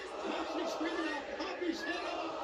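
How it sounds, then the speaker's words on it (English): Wrestling arena crowd roaring and cheering in a steady, dense wash of voices, with scattered shouts and whoops rising above it throughout. "Listen to the crowd."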